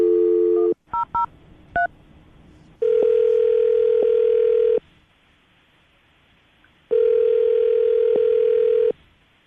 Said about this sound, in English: We're going to call this number, see if we get him on the phone